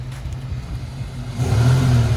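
A car engine, a 4x4 or front-wheel-drive vehicle, runs low and steady, then swells louder as it revs up in the second half, close by with no talk.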